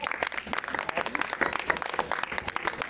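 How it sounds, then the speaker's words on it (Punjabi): A crowd at a Sai Sandhya devotional gathering for Holi in Mohalla Kapaniyan, Nakodar, bursts into loud, dense, sustained clapping that fills the whole stretch, with a few voices mixed in. "ਇੱਕ ਤਾੜੀਆਂ ਲਾ ਦਿਓ ਇਹਨਾਂ ਦੇ ਨਾਂ ਤੇ ਜ਼ੋਰਦਾਰ"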